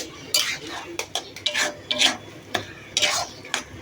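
A spoon scrapes and stirs a thick, sticky salted mixture in a pan, giving irregular short scraping strokes with brief pauses, close and fairly quiet.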